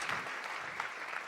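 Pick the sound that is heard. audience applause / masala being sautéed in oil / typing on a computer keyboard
audience applause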